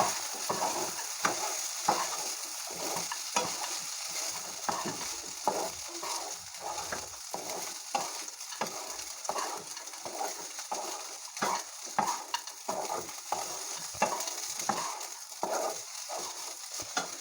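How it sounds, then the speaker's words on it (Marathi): Washed poha being stirred in a pan for kande pohe, with rhythmic scraping and tossing strokes repeating steadily over a light sizzle, close and continuous. "त्यानंतर मी हे धुतलेले पोहे ॲड करून घेते बघा मिक्स करून घेऊया"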